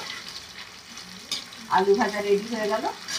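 Potatoes fry in a wok with a soft sizzle, then a scrape and brief clatter of stirring midway, a muffled tonal knock or voice-like sound mixed in near the end.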